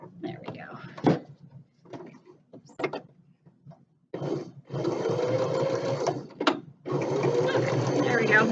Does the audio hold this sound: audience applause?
no